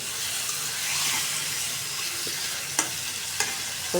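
Taro leaves sauté in a hot pan, a continuous close sizzle with a few sharp scrapes and knocks of the stirring spoon near the end.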